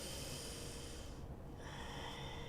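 Slow, deep breathing during a yoga stretch, a close, airy inhale-exhale rush that fades briefly midway and returns, with no talking.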